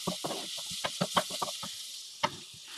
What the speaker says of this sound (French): Avec votre cuillère en bois, vous venez mélanger.